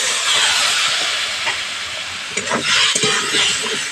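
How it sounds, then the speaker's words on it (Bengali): Water hits a hot pan of spiced drumstick stems and potatoes for a light fish curry, setting off a loud, steady, steamy hiss and sizzle close by, with a few clinks as it settles. "মশলার সঙ্গে ডাঁটা আলু খুব ভালো করে কষিয়ে নিয়েছি, দিচ্ছি জল"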